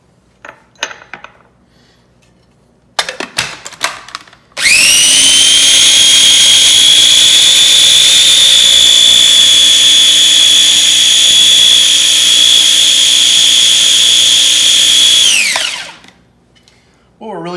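A blender whips egg yolk and lemon juice for Caesar dressing, starting with a few short pulses and then running as one loud, steady high whine for about eleven seconds before cutting off.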